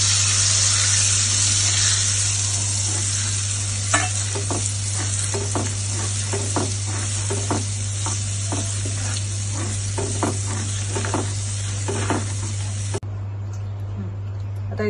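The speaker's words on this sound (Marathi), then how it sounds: "आता पिठी ओतून घेते मी। चांगले ढवळून ओतून घेते।" Horse gram flour batter is poured into a pan with cooked onion and garlic and stirred, giving a steady sizzle broken by repeated scraping strokes of the spoon. A constant low hum runs underneath, and the sound cuts off abruptly near the end.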